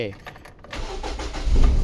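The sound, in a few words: car engine starting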